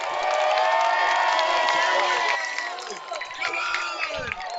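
A big crowd at a Dalhousie Tigers football game cheers and shouts loudly, with whoops and scattered clapping. The roar thins out toward the end, and voices stand out over the crowd.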